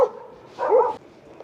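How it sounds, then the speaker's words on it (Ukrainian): Dogs barking outdoors on a street near Kuyalnyk in Odesa, a short sharp bark followed by a louder yelping bark, fairly close and clear against quiet surroundings. "Тут собак багато."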